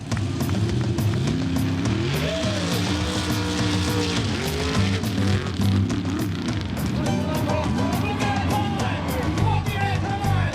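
Trucks and cars racing at the Crisfield Mud Bog behind an Elks Lodge in Somerset County, engines roaring continuously with revving pitch swings and tire noise, loud and close, with faint crowd voices underneath.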